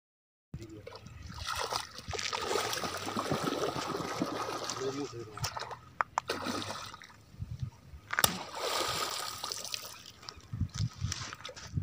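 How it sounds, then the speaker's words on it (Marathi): A large 4–5 kg murrel fish thrashes and stirs the water in a shallow puddle left in a dried riverbed, giving sporadic splashes and sloshing over a continuous trickle, with faint voices nearby. "पाणी अगदी ढवळत आहे बघा"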